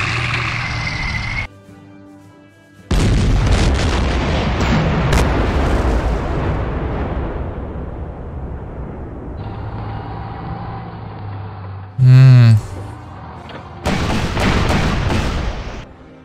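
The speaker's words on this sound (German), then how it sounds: "Okay, Artillerie." Heavy artillery fire in the wartime strategy game Panzer Corps: booming blasts and rumbling mechanical clatter come in loud bursts, separated by brief near-silences, with a sharp rising whine partway through.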